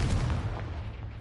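A Confringo fire spell bursts in Hogwarts Legacy, giving a dull, heavy boom with a low rumbling tail that slowly fades over about a second.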